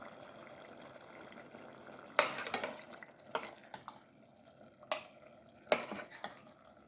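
Cooked eggplant, tomato and toovar bean curry is scooped from a pan onto a plate, with a string of sharp spoon-on-metal clinks and scrapes over a steady low kitchen hiss, no talking.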